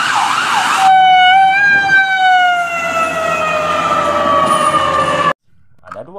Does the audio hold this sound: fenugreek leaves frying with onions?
no